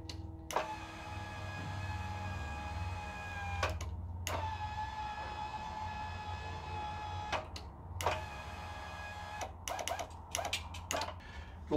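A Panther T4 electric steering motor for an ePropulsion Navy Evo outboard whirs in steady tonal runs on a remote-controlled test, with short stops and restarts and a few quick bursts near the end, close and continuous.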